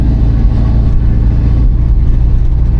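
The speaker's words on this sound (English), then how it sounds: "there's got to be an aftermarket exhaust on here" A 1995 Chevrolet Caprice engine with an aftermarket exhaust runs steadily with a deep, throaty rumble, loud and close, holding a low idle without pauses.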